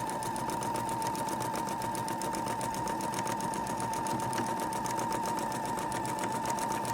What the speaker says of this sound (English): We are sewing our border onto the Christmas quilt.